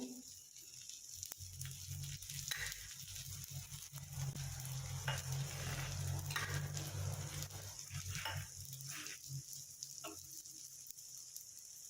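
Egg paratha frying in oil in a pan after being flipped, a quiet steady sizzle with a low background hum and occasional faint scrapes.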